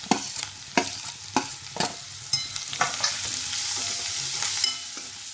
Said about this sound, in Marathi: अर्धा मिनिट छान हे असं परतून घ्यायचं आहे आणि टाकून घ्यायचं आपण उकडून घेतलेले रताळे